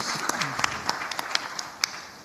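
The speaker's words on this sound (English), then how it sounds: "John, can we give him a round of applause, please?" Scattered, thin applause from a small audience at a youth employment panel session, a few distinct sharp claps standing out over quiet room noise, with a brief murmured voice near the start.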